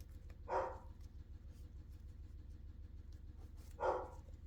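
Two short dog barks, roughly three seconds apart, ring out from a room indoors over a steady low background hum, with no other sounds standing out.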